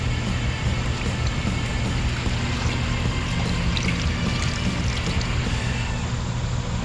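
Purple Power degreaser is poured into a small block Chevy valve cover, a steady liquid trickle and splash running without a break, loud and close.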